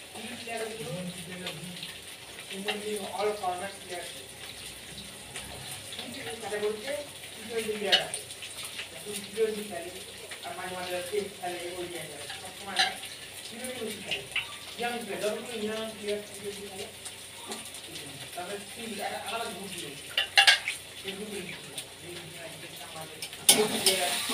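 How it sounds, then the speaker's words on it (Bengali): Sliced onions for biryani birista sizzle and crackle steadily in hot oil, with a continuous frying hiss and occasional stirring clinks, while a voice talks faintly over it. "আর এইখানে দেখো বিরিয়ানি বেরেস্তাটা ভেজে রাখছি"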